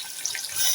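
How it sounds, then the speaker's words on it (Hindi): Water poured from a tap into a pot of biryani masala with green chilli paste, ginger and coarsely crushed garlic makes a steady, bright splashing stream that swells slightly toward the end. "ये पानी डाल रही हूँ ताकि ये लगे नहीं मसाला"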